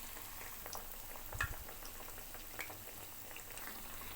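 Potato, carrot and egg mixture frying in oil, a steady soft sizzle and crackle with a few louder pops, fairly quiet and close, no voices.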